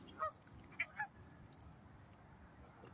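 Geese honk in a few short, clear calls over steady ambient lake noise, moderately distant, with birds gathering to feed nearby.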